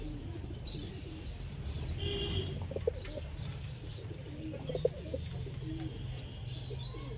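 Pigeons of the Giribaj breed kept in a loft give soft, low cooing over a steady rumble, with faint chirps and a brief wing flutter mixed in, no one speaking.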